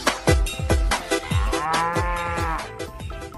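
A water buffalo lows several times in a row, with deep, loud moos and a drawn-out call near the middle, among other farm animals being hauled on a truck.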